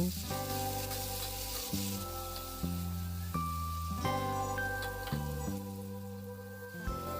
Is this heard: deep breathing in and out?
no